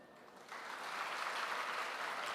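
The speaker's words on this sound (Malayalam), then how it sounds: "കണ്ടിട്ടുള്ളവരൊന്ന് കൈയടിക്കൂ" An audience claps together at a public anti-drug campaign event, a soft burst that swells into steady, diffuse applause heard from a distance.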